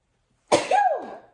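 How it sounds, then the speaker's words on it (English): A single sharp, explosive sneeze bursts out after a short silence, then trails off with a breathy, voiced tail. "I gotta sneeze."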